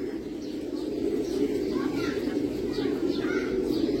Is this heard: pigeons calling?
yes